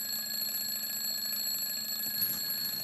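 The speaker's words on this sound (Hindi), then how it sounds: "ताई प्लीज अलार्म बंद कर दो ना," An alarm clock rings steadily and continuously at moderate loudness, a sustained electronic tone with bright high overtones and no pauses, heard alone with no speech.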